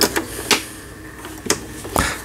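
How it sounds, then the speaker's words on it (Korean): A Brother HCL 355 home sewing machine, just repaired, stitching fabric with an overlock stitch along the edge. Short mechanical clacks arrive in quick, irregular bursts, close and fairly loud. "HCL 355 제품 수리를 마치고 박음질을 하는 영상을 보내드렸습니다"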